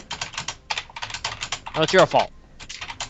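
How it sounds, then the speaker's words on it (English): Rapid clattering computer keyboard typing fills the scene in quick bursts, close and steady, while a person briefly speaks over it during a Portal game playthrough. "Typing."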